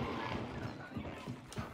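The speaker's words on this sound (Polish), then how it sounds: "Konia mi się wydaje, że słyszałem." A horse in the video game Hunt: Showdown whinnies faintly from far off, with soft hoof-like clops over a steady ambient game background.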